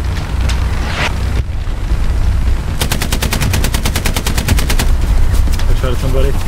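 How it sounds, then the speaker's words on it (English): Rapid automatic gunfire from the World War II shooter game Hell Let Loose, a loud close burst of evenly spaced shots lasting a few seconds amid a constant rumbling battle ambience. "I shot at somebody."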